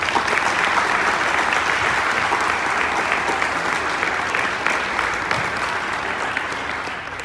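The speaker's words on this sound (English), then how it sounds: "Let's give them a round of applause." Applause from the audience at the Cardinal High School 2019 spring concert, honoring student clarinet and saxophone soloists; a full, sustained crowd clapping that stays loud and steady for about seven seconds before easing slightly at the end.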